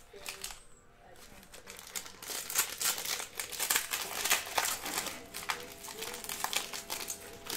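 A 2019-20 Panini Donruss Optic basketball card pack is torn open, with several seconds of crinkling and tearing foil wrapper, close and fairly quiet, no talking.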